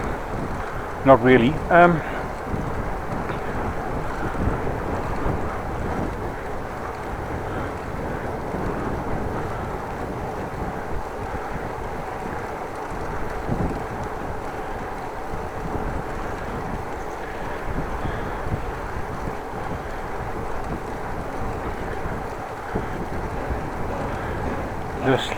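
Headwind roars steadily across the microphone during a windy afternoon ride on a Dutch bike, a constant low rumble throughout, with brief speech near the start.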